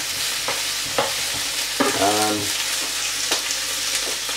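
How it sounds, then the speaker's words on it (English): Onions and leeks frying in a pan for leek and potato soup, a close, even sizzle with periodic spoon scrapes and a short tonal squeak partway through, no speech. "caramelise the onions if you can, caramelise the onions and the leeks if you can."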